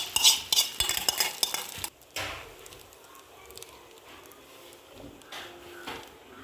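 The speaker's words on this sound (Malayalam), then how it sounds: "ഇതിലേക്ക് നമുക്ക് ചെറുതായിട്ട് കൊത്തി എരിഞ്ഞിട്ടുള്ള തേങ്ങാക്കൊത്ത് ഇട്ട് കൊടുത്തിട്ട് നല്ലോണം വറുത്തിട്ട് കൊടുക്കാം" Chopped coconut pieces sizzle in hot ghee while a utensil scrapes and stirs against the pan, busiest at first, then settling into a steady frying hiss.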